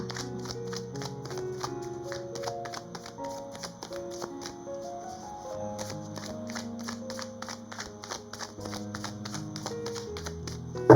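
Oracle tarot cards are handled and shuffled with light, rapid riffling taps. They sit under steady background music at moderate volume throughout.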